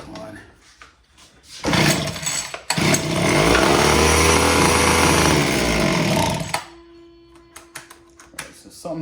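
A Homelite H17 hedge trimmer's small two-stroke engine sputters, then roars loudly for about four seconds before cutting out, with quieter handling noises before and after.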